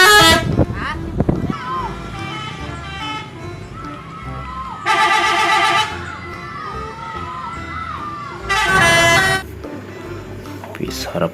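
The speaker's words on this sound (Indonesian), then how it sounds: "Dan yang ini bis Rosalia Indah." A Rosalia Indah bus sounds its horn in a couple of loud, sustained musical blasts amid a noisy outdoor crowd with shouting voices and background traffic.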